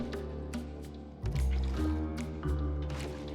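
Water poured out in the video game Minecraft, a soft, close liquid splash and flow over background game music, with a second pour later on, no talk.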